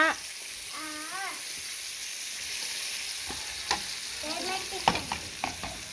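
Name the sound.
garlic frying in a pan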